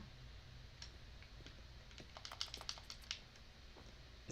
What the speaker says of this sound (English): Why does the piano make keyboard sounds?